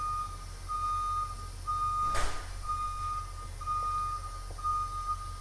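Steady, evenly spaced electronic beeps of a reversing truck repeat throughout over low engine rumble, with a brief louder noise burst midway.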